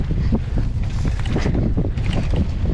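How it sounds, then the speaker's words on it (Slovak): Strong wind buffeting the microphone while riding a bike on a jump track, a constant loud low rumble with gusty surges throughout, no voices. "Celkom fúka."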